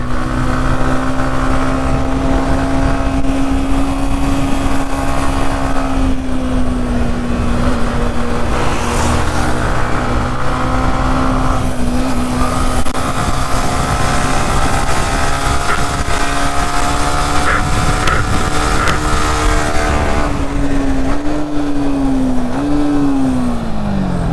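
A Yamaha MT-15 motorcycle corners hard for a knee drag on a Meghalaya highway, its engine a steady close droning whine over wind noise, the pitch wavering and dipping near the end.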